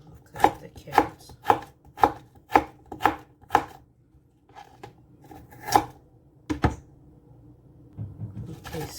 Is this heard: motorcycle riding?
no